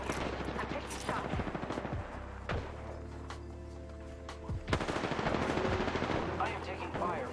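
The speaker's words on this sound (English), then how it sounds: "I am taking fire, friends." Rapid automatic gunfire from the Apex Legends video game rattles in dense bursts, with sharp shot transients and thuds over a continuous game soundscape, while a voice talks intermittently.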